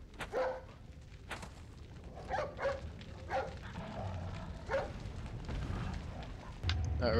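Dog in the video game Resident Evil 4, barking in short, scattered bursts at moderate distance over a quiet, low background.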